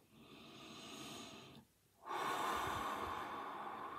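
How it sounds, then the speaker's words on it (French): Slow, deep breathing, a long inhale and then a fuller exhale after a brief pause, close and fairly soft, in a quiet room during a tarot card reading. "on inspire, on expire."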